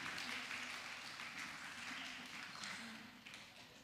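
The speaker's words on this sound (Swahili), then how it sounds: "Yes, tumpigie makofi," Children clapping in applause at a Sunday school conference, a steady mass of claps sustained for several seconds at moderate level, fading slightly toward the end.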